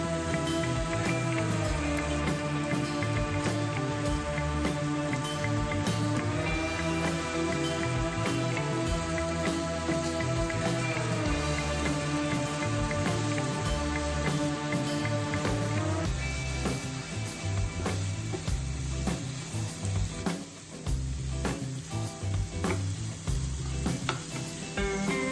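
Ridge gourd hitting a hot pan and being stir-fried for a chana dal sabzi, with a steady close sizzle throughout and occasional stirring scrapes, no voices.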